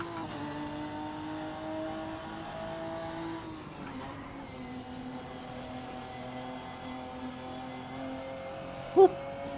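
Racing car engine from a driving video game, a steady sustained drone with layered harmonics, dipping briefly around mid-clip, with a short sharp click near the end and no talk.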